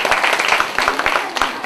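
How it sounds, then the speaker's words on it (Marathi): Loud applause for two contestants at a Nagpanchami festival game show in Satara, a crowd clapping quickly and densely in a brief close burst. "या दोन स्पर्धकांसाठी जोरदार टाळ्या होत्या।"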